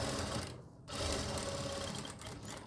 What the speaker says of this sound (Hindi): इस वाले हिस्से को भी ऐसे फोल्ड करके इस पर हम सिलाई लगा लेंगे